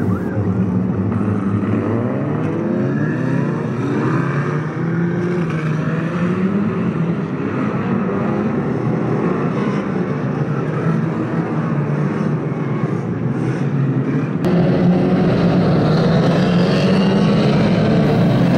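Several 2-litre National Banger race cars roar around a raceway in a heat, loud continuous engine noise with revving and passing cars and no clear talk.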